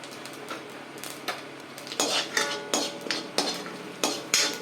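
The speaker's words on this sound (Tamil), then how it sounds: "உளுத்தம்பருப்பு வெறுபடணும் ஜீரகம் பொரியணும்" Mustard seeds, urad dal and cumin fry in hot oil with busy sizzling and popping, broken by repeated scraping clinks of a spoon stirring against the pan, close and clear with no talk.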